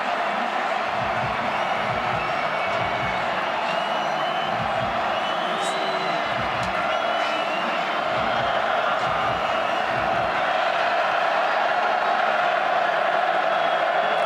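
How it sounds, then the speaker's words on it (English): A college football stadium crowd at Air Force versus Utah State roars throughout, a constant broad din of cheering and shouting under a commentator's voice that cuts in now and then. "Crowd has been loud throughout"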